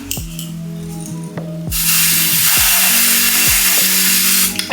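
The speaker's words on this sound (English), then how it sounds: "But first, let me spray this wig." A spray bottle mists a wig in one long, loud hiss that lasts several seconds, accompanied by faint clicks and background hum.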